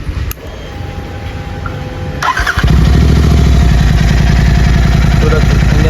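A Royal Enfield Continental GT 650 twin-cylinder motorcycle, serviced for an engine problem, turns over briefly and fires up close by, then settles into a loud, steady, even-pulsed idle.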